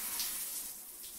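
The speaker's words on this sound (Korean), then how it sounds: "샤워기 좋은 거 쓰네요 진짜. 이거 수압이 장난 아니네." Shower spray running steadily in the Korean occult mystery adventure game Novena Diabolos, a loud, dense hiss of strong water pressure filling the whole moment without talk.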